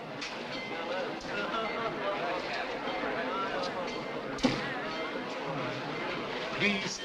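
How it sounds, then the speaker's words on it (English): A train pulls out of a station in a 1946 film scene, with a continuous rolling rumble and clatter under people talking, plus a sharp knock partway through. "Train leaving, if you please."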